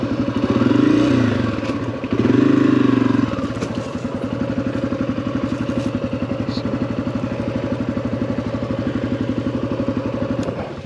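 Off-road motorcycles on a dirt trail: a loud engine revs close by, then settles into a steady, rhythmic idle-like chug that lasts to the end, with some clatter and scraping.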